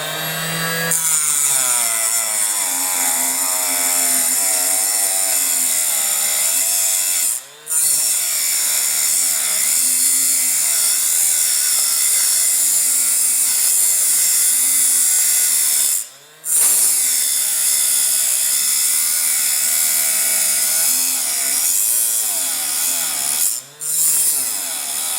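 A small saw slices through a large meatloaf, rasping continuously at close range with a wavering, rhythmic scraping tone, broken by two or three brief pauses as the blade is repositioned.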